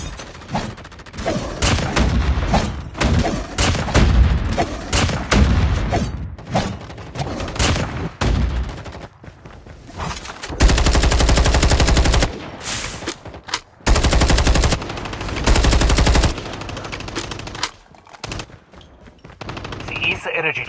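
Automatic gunfire rattles in long, loud bursts during an undead siege base attack in Call of Duty Mobile, broken by short gaps and heavy thuds, with game voice lines in between.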